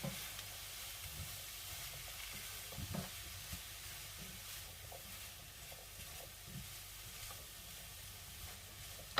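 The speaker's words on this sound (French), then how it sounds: "je mélange tout bien ensemble" Chicken and mushroom pie filling is stirred in a pan, a steady soft sizzle with scattered light scraping clicks from the spoon, continuous and fairly quiet throughout.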